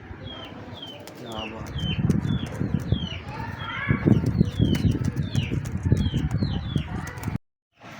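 Breeder pigeons coo in low, rolling bursts among sharp chirps and a brief flutter of wings, steady and close throughout, with someone talking over them before everything cuts to silence at the very end.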